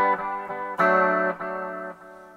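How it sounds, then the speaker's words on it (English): A Jackson Dinky electric guitar played through a Nux Mighty 20BT amp with a chorus effect rings out in a handful of sustained, shimmering strummed chords, clear and close with no talking. "I'm going to go back to the chorus because, well, I like the chorus sound the best."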